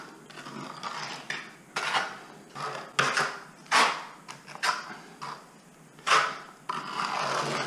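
Thin-set mortar for tile mosaics is stirred and scraped in a container, producing repeated close scraping and clanking strokes in an irregular rhythm, no talking.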